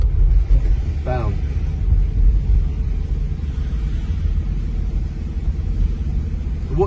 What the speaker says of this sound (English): That is us driving over Tower Bridge, and it is not falling